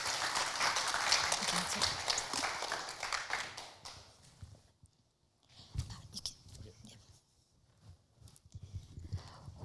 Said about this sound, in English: Can we have a round of applause for David, please?